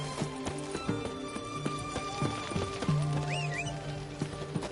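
Roach the horse runs in a video game, rapid hoofbeats clip-clopping steadily near and loud over a music bed with a brief whinny-like cry.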